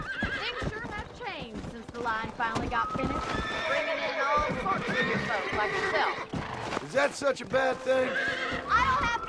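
Horses whinny and hooves clip-clop steadily under conversation in the game Red Dead Redemption, with several loud neighs rising over the voices.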